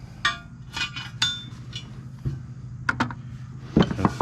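Steel wheel weights scavenged while scrap-sorting wheels are tossed one by one into a steel bucket, giving several sharp metallic clinks and clanks spaced irregularly, close by, over a low steady hum.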